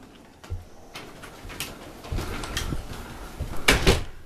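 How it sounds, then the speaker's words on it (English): An old storm door on a jacked-up 1895 Detroit farmhouse fails to close, giving repeated soft knocks and rattles that build toward a louder clatter at the end, close and over steady background noise, with no talking. "now the storm door won't close"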